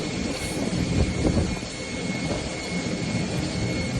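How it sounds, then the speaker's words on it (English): A jet airliner landing or taking off at Dubai gives a steady, broad roar of engine and rushing air with a constant high whine, sustained and fairly loud throughout. "this was a clip from a plane trying to land or take off from Dubai"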